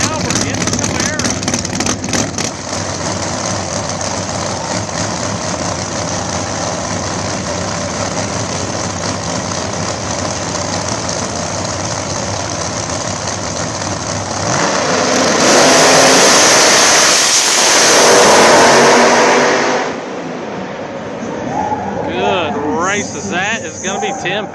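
Pro Mod drag race cars, including a Camaro, launching at a PDRA event: a loud sustained roar under race commentary that swells into a broadband blast around the launch, then recedes.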